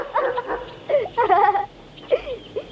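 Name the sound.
dog barking and whimpering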